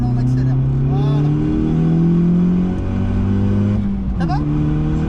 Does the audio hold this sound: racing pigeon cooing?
no